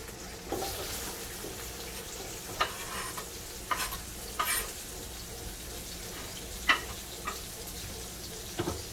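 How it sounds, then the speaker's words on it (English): Onions and garlic sauteing in a pan give a soft, steady sizzle, broken by a few sharp scrapes and clinks of a stirring utensil against the pan. "Getting them going, sauteing them up."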